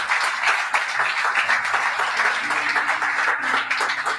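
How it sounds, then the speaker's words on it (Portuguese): A church congregation claps together in sustained, dense applause, loud and steady throughout with no pause or break. "Pode dar um aplauso a Jesus por isso"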